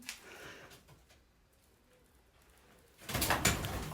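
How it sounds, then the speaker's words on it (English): Pigeon in an abandoned dairy farm building, a soft coo rising near the end after a quiet stretch of faint room noise, fairly close and alone with no talk. "Oh, it's a pigeon there."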